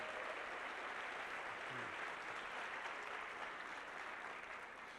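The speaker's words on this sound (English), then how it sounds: "Give him a round of applause" A large audience at a motivational speaking event applauds, a steady dense wash of clapping that holds for several seconds before tapering slightly, with no voices over it.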